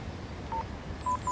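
A few short telephone keypad tones beep one after another, a quiet dialing sequence of three brief beeps over faint background hiss.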